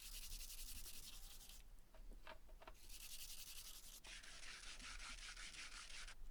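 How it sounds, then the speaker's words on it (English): 100-grit sandpaper rubbing on scrap wood in long back-and-forth strokes, a raspy scratching with brief pauses between passes, close up and with no talking. "Then I could give the wood a sanding down."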